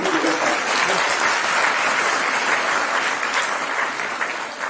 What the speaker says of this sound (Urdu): بھرپور تالیاں ہو جائیں ڈاکٹر زاہد